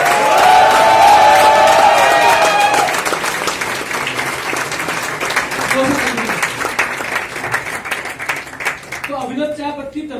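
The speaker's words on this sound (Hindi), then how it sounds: "जोरदार तालियां" Loud applause from an audience at a Vestige business plan presentation fills the first seconds, then continues more steadily under a voice speaking over it.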